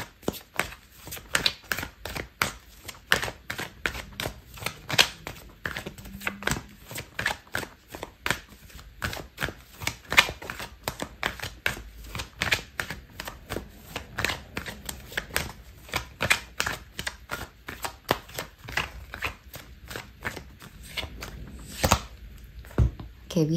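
Tarot cards being shuffled and pulled during a reading: a long run of rapid, crisp riffling clicks and flicks, close and fairly loud, with a few soft thunks near the end.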